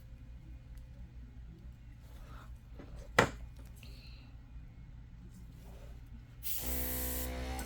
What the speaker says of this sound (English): I do a test spray before I spray on my product.